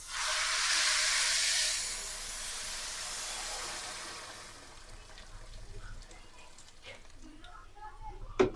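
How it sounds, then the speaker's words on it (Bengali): Hot water poured into a pot of well-fried rice for vegetable pulao, a loud broad hissing rush for the first two seconds that eases into a softer steady simmer and bubbling. "এখন আমি গরম পানি দিয়ে দিব।"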